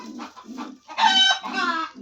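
Chickens cluck and squawk up close, including a hen sitting on eggs, a few short calls followed by longer, louder drawn-out cackles.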